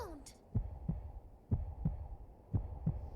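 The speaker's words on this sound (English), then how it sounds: "My controller is doing heartbeat." Rumble from a game controller during Donkey Kong Bananza, pulsing as a heartbeat: paired low thumps repeating three times in a steady lub-dub rhythm, close and distinct, with a brief electronic tone at the start.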